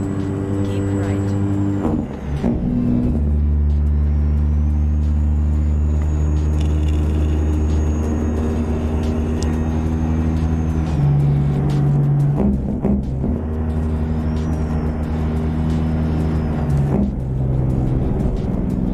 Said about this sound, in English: I think the best engine sounds for this game are Z-Mods